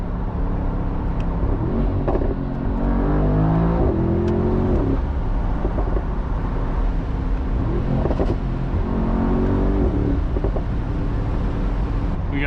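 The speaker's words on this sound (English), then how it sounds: "you can even hear the blow off like in some sort of rally car" A 2025 Mercedes-AMG SL 63 engine revs loud and close, rising and falling through several pulls, with blow-off valve whooshes between them over a steady drone of road and engine noise.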